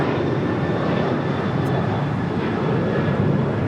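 A departing airliner's engines roar steadily at close range on a runway at LAX, a broad, continuous rumble with no gaps.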